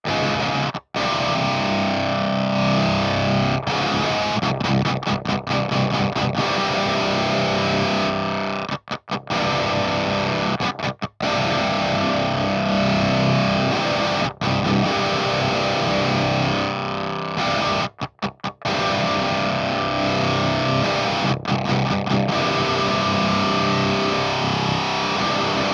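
Otto Audio Blown Out Wall distortion effect with the valve drive turned up and distortion lowered, a dense, heavily saturated guitar-like wall of noise that sustains loudly throughout, broken by several brief dropouts.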